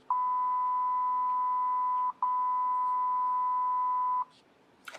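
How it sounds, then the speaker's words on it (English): Two long, steady censor beeps play back to back with a brief gap between them, loud and pure-toned over a faint background, ending with a small click. "all the beeps"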